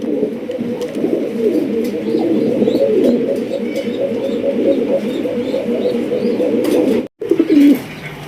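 Golakosha high-flying pigeons, a big-sized pair, give a continuous close chorus of throaty cooing that stays loud and steady before cutting out briefly near the end.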